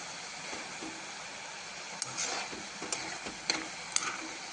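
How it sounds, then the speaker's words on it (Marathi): Samosas fry gently in oil over a low flame, a soft steady sizzle with a few light clinks and taps as they are turned in the pan. "अशा पद्धतीने गॅस कमी ठेवायचा आणि खालीवर करत छान तळून घ्यायचे."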